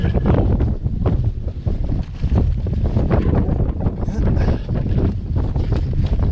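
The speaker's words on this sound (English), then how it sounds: "Sorry about the wind, it's crazy windy today, even windier than yesterday" Loud, continuous wind buffeting the microphone, a rough low rumble with gusty surges throughout, outdoors off-road with an electric bike.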